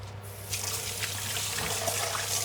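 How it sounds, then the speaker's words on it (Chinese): Hands washed under a running kitchen tap while cooking butter fish fillet, a steady close rush of water with splashing, no talk. "好了我洗手"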